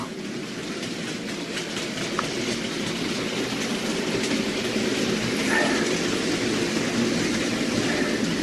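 An OO gauge Hornby Black 5 model locomotive with wagons runs steadily along a layout track, producing a continuous whirring rumble with light clicking, close and moderately loud, with no talking.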